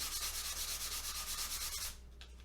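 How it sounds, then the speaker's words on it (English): A guitar nut for a Fender '66 is rubbed on a standard piece of sandpaper, with fast rhythmic rasping strokes close up for about two seconds before stopping abruptly into quiet. "you just start with a standard piece of sandpaper"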